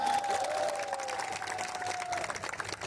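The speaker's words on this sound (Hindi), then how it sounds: "उसके लिए जोरदार एक तालियां हो जाए" Crowd applause at a public event in Arunachal Pradesh, steady dense clapping from a large audience with a faint cheer, a sustained tone running through the first part.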